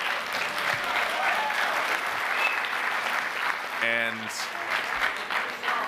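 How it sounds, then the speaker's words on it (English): Sustained applause from an audience at an annual general meeting, a dense clapping wash lasting several seconds, with a brief spoken word over it. "I think they deserve a round of applause."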